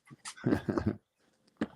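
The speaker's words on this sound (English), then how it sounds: "Somebody's dog coming in, huh?" A dog indoors gives a few short, close whimpers and yips in uneven bursts, with brief quiet gaps between them.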